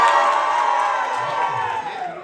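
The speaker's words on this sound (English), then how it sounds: "Some of you, it's just about cheering louder." An audience cheers loudly to cast a vote at a Christmas show, a sustained roar of whoops and shouts, children among them, that slowly fades over a couple of seconds.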